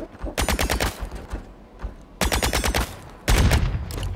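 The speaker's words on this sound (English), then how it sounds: "These guns sound so cool" Automatic gunfire from the sci-fi shooter game The Signal From Tölva, three loud sustained bursts of rapid shots separated by brief pauses, heard alone without talk.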